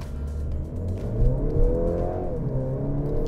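Mercedes-Benz C300 AMG Line engine pulling hard at high revs, a smooth rising and falling drone heard from inside the car, steady and moderately loud with no talk.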